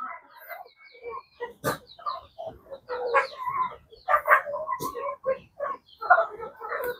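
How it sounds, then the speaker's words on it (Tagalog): Farmyard chickens and ducks cluck and squawk in a busy, overlapping chorus, with occasional sharper calls and scuffles nearby. "Manok natin, guys, at saka pato."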